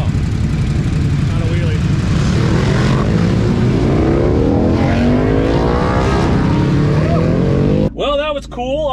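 Ducati DesertX motorcycles speed past at an event, engines rising and sweeping by loudly with Doppler-like pitch shifts, overlapping passes, and a voice speaking briefly near the end.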